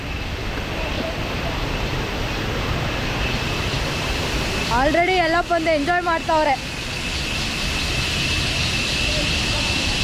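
Forceful water roars continuously at Soormane waterfall in the monsoon, a loud, dense wash of noise that never lets up, with a person speaking briefly over it in the middle.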